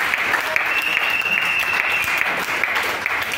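A church congregation claps together in steady, dense applause offered to the Lord during a Sunday morning service, filling the space evenly at full strength from start to finish.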